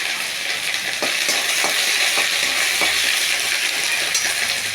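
Jackfruit and prawn curry with grated ginger sizzles and fries in a hot kadai, with continuous bright frying crackle and occasional scraping stir strokes, close and steady, with no talking.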